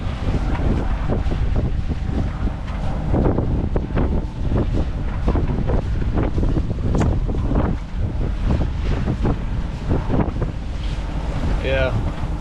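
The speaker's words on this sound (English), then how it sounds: "This wind is pushing us hard, and it's not really stopping at all." Strong wind blasts a sailboat at sea in continuous loud roaring gusts buffeting the microphone, with waves and water rushing beneath.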